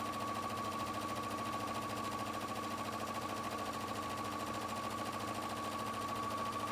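A sewing machine runs steadily through fabric, giving a fast, even mechanical chatter with a constant whine underneath, faint and unbroken for the whole stretch with no talking.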